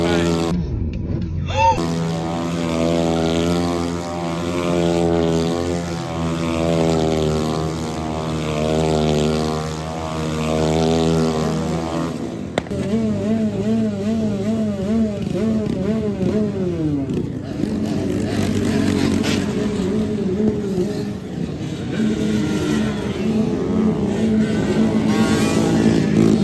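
Small moped engines buzz past at a rally meet, a droning, wavering whine that rises and falls as they pass close by, with voices talking over them.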